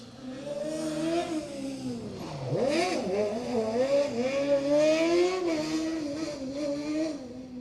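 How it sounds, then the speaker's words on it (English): Rally buggies powered by 600cc motorbike engines race past on a stage, their high revving engines loud and close, rising and falling in pitch through gear changes and one sharp drop as a buggy passes. "Just 600cc motorbike engines powering these little buggies"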